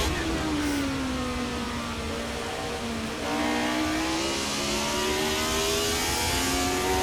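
1973 Marlboro-branded Formula 1 racing cars at the International Trophy roar loudly and steadily nearby, their engine pitch sliding lower as they sweep past, then building again as another car follows.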